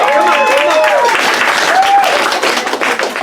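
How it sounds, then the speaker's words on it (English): An audience at a progressive fall potluck gathering in Santa Cruz, California bursts into dense, loud applause. A voice speaks briefly over the clapping. "Huge round of applause for Cheryl."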